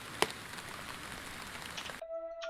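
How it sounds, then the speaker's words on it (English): Ambient rain sound effect loaded into a music project: a soft, steady hiss of falling rain with one brief sharper drop near the start, cutting off abruptly near the end into a faint electronic tone. "I already downloaded like ambient rain effects"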